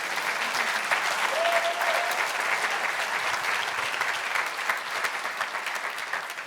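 Audience at a school awards ceremony applauding honor-roll students, a dense, continuous round of clapping that holds steady and tapers slightly at the end, with no talk over it.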